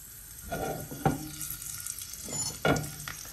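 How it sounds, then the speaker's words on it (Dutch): Cumin and mustard seeds fry in hot oil in a pan, giving a soft steady sizzle with a couple of sharp popping crackles and stirring scrapes. "Als de komijnzaadjes en de mosterdzaadjes een beetje beginnen te bakken"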